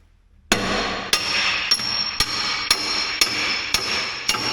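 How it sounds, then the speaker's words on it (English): Eight sharp blows from a Pittsburgh hammer strike metal during heavy equipment work, ringing out at a steady pace, each a bright metallic clang with a short ringing tail. "You need a bigger hammer, bud."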